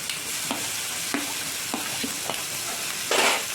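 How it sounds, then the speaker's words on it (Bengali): Vegetables with grated ginger and garlic sizzle in a pan while a spatula scrapes and stirs in several distinct strokes, the last stroke longer and louder, over a constant frying hiss. "ভালো করে নেড়ে করে ভেজে নেব"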